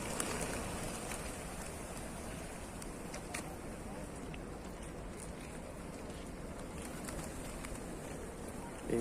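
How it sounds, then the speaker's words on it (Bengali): Pigeons coo at Uhud mountain in Saudi Arabia over a steady wash of outdoor noise, soft and continuous throughout, with a murmur of voices in the background. "এখানে আবার কবুতর।"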